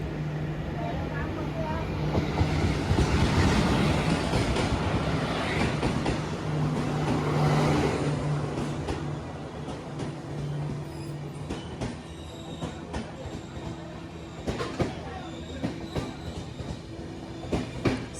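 A Ratnagiri–Diva passenger train on the Konkan Railway rumbles past up close at Mangaon station in rain, a loud rolling roar with rattling wheels and squeals, easing into clanks and clatter, with voices faintly underneath.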